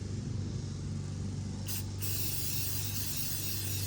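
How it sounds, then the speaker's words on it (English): A continuous aerosol cleaner hiss sprays close by onto a microfiber towel for several seconds, with a brief pause before the spray resumes. "We're just gonna shake it up and spray onto the microfiber towel."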